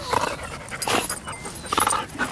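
Dogs playing at a dog park make close yips, whimpers and short growly bursts in an irregular, lively rhythm, with brief pants between them.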